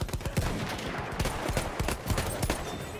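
Rapid pistol shots ring out in a video game match, a dense run of sharp cracks in quick succession with clattering game effects mixed in, loud and close.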